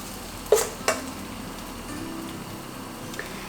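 Potato pancake batter frying in a pan of plenty of oil gives a faint, steady sizzle, broken early by two sharp utensil clinks against the pan.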